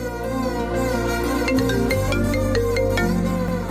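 A mobile phone ringtone plays steadily for several seconds as an incoming call arrives, a tonal melody sitting over a dense music bed with no talk.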